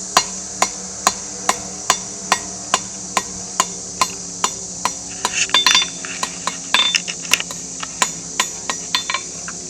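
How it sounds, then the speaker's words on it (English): Steady, evenly spaced metallic blows of a blacksmith hammering and pointing a hot metal bar ring out close by, about two per second, with a brief flurry of lighter clinks midway. "I start to form the metal by hammering it."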